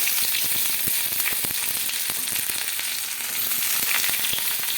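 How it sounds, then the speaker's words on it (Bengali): Sliced onions fry in hot oil in a pan with a dense, continuous sizzle and scattered sharp crackles, close up and steady throughout with no voices. "পেঁয়াজটা ভালো করে লাল লাল করে ভেজে নেবো"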